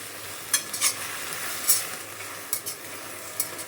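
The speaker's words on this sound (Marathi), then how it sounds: "आता ही चांगली परतून घेते तेलामध्ये" Fenugreek leaves sauté in oil with a soft sizzle under several sharp scrapes and clinks of a spoon stirring the pan, spaced irregularly and close by.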